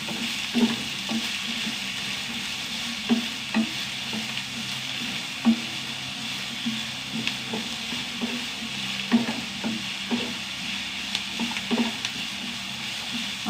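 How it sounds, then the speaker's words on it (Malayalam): Food sautéed in a pan gives off a steady sizzle. Repeated scraping strokes of a spoon against the pan come at a loose, regular rhythm. "നന്നായി വഴറ്റിയെടുക്കണം"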